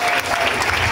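A crowd at a school event in Limoncito applauds to welcome the president of the Republic to the podium, a dense continuous wash of clapping filling the brief moment.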